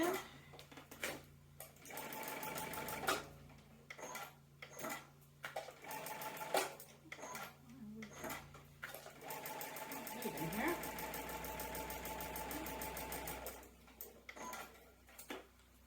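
A sewing machine pieces quilt squares in bursts of rapid mechanical stitching, stopping and starting between seams, with a voice talking at times over the work.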